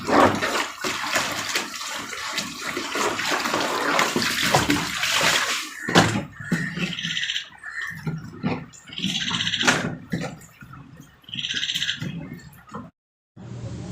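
Tap water runs loudly into bottles close by, a continuous gushing stream that breaks into shorter pours and splashes as bottles are swapped, then cuts off to silence.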